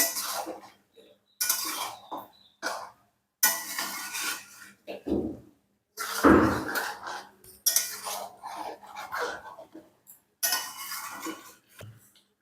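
Mutton rezala stirred and sautéed in a pan with poppy seed, ginger-garlic paste, onion paste and green chillies, spoon clinking against metal in short bursts with pauses, close and moderately loud, a voice talking between the stirs.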